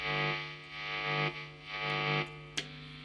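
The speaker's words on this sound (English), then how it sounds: "Amazing fuzz, because I think this kind of wants fuzz, this guitar." A fuzz pedal drives a Fender Vintera II 70s Jaguar electric guitar through sustained, thick distorted chords that swell and cut off in a few rhythmic strums, loud and alone.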